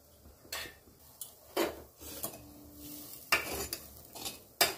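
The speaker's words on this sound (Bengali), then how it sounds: "চালটাও একটু ভেজে নেব।" Rice fries in a pan for lentil khichuri, with a soft sizzle under intermittent scraping stirs of a utensil against the pan.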